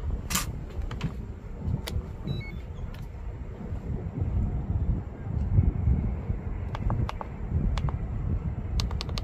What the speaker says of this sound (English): Kind of windy out here, y'all.